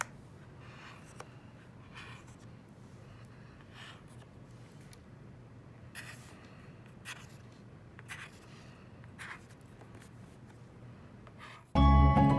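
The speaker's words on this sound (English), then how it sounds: "I'm just going to make a mark out to the edge" A pen marks short lines on the back of a plate for a circle loom, making faint, intermittent scratchy strokes over a low background hum, ending in a sudden loud clunk.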